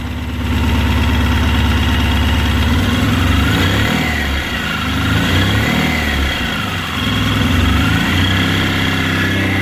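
A Mahindra Maxximo engine, just fitted with a new head gasket, idles steadily and fairly loudly throughout, its note swelling slightly now and then like a light rev, with no voices over it.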